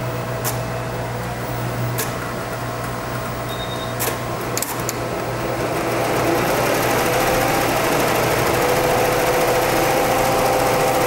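An embroidery machine stitching, a steady mechanical hum and rapid whirring drone with a few sharp clicks early on, growing slightly louder and fuller partway through, close by with no talk.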